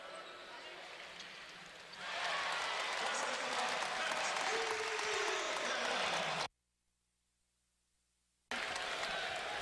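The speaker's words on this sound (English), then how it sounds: "the crowd erupts" A basketball crowd at a Michigan versus Wayne State game swells into loud cheering and applause, sustained for several seconds before cutting out briefly, with an announcer talking over it.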